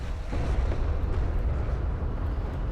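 An artillery barrage in a strategy video game sounds as a dense, continuous rumble of distant explosions with scattered pops, steady and fairly loud.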